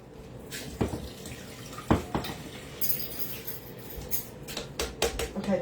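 Water running from a kitchen tap while cups of water are measured out, a faint, quiet trickle and splash with a few sharp clinks of dishes or a measuring cup against the sink.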